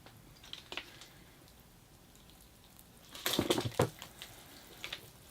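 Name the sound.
watering a hibiscus bonsai to rinse soap from soil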